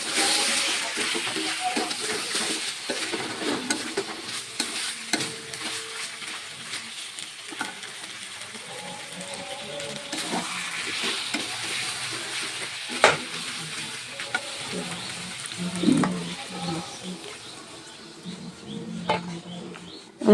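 Meat curry frying in oil while being stirred, a soft steady sizzle broken by scraping and clinking of a spoon against the pan, with a few louder knocks toward the end.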